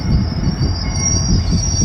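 An MBTA passenger train pulls into Bradford station in Massachusetts, its wheels squealing in a loud, sustained high screech over rumbling rail noise close by.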